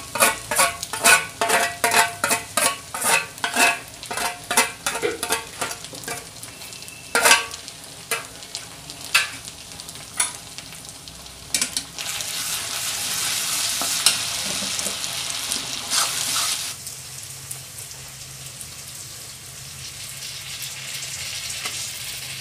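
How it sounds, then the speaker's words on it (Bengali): Spices with ginger and garlic paste sizzle and fry in a pan while they are stirred and scraped. Sharp clatters of the spatula come first, then a steady loud sizzle takes over, close by and without talk. "আদা রসুনের পেস্টটা দেওয়ার পরে ওখানে যে সব যে মশলা ছিল সেই সবগুলো এর মধ্যে দিয়ে দিয়েছি, দিয়ে এখন ভালোভাবে কষানো চলছে।"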